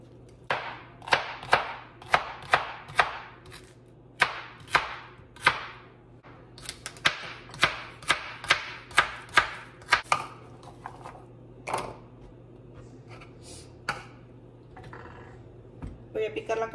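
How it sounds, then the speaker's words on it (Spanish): A knife chops through celery stalks on a cutting board in a home kitchen, with a steady series of sharp, close, crisp cuts, a brief pause, then more rapid chops that thin out near the end. "Ahora voy a partir el apio."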